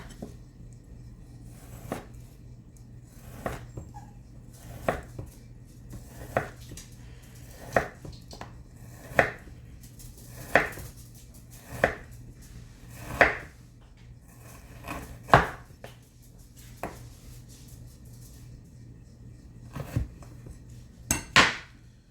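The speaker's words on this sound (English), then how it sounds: "just start chopping slices off of that" A knife chops slices of beef steadily on a cutting board, sharp knocks about every second, quiet and close, with no voices.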